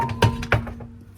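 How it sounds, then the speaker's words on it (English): A rubber mallet striking the back of a 2017 Citroen C3 front brake caliper: two dull, close thunks about a third of a second apart over a faint steady hum. "get a rubber mallet and you hit it from behind"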